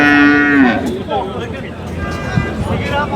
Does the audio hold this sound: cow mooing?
yes